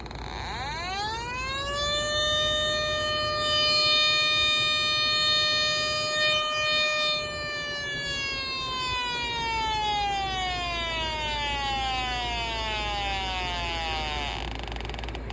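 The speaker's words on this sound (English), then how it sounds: "went back to the office, got my leak detector, and let's see if we can find anything" A propane gas leak detector's alarm wails as a loud electronic tone that rises, holds steady, then slowly sinks over about fifteen seconds, sounding alone with no talking.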